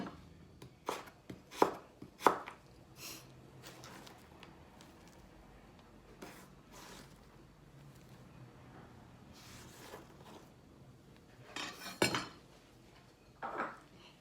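A knife chops calamari squid into pieces on a cutting board for okoy, with crisp, close chops arriving in short irregular bursts separated by quieter pauses.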